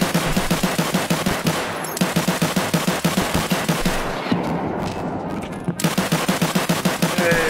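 Rapid automatic gunfire in Escape from Tarkov, loud and sustained in a steady rhythmic stream of shots with a brief break near the middle, dominating the scene with no talk over it.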